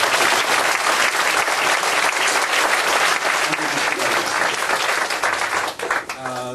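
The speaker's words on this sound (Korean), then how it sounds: "우리 오늘 생일 맞으신 두 분을 한번 박수로 한번 다시 한번." A church audience applauds two people celebrating their birthdays, a dense, loud round of clapping that fills most of the stretch and then tapers off, giving way to a voice and music near the end.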